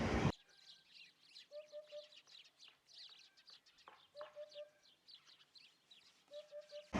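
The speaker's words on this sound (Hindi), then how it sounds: "हुप्पी, दिस इज हुप्पी। हुप्पी मीन्स हुदहुद।" Hoopoe calls in short repeated bursts of three soft hooting notes, heard several times at a steady distance, amid other chirping birds in the background.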